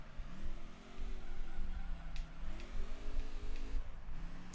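A race car engine in Gran Turismo 3 held at full throttle, a steady high-pitched drone whose pitch wavers and climbs slightly, loud and continuous with faint tyre squeal on top.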